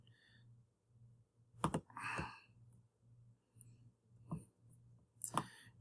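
A computer mouse gives a few soft, scattered clicks at close range over a low electrical hum, with faint breathy sounds between them.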